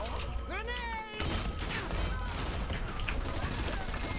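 Gunfire in the video game Dirty Bomb crackles in dense bursts alongside clattering mechanisms and impacts, loud and busy throughout, with a voice talking over the battle.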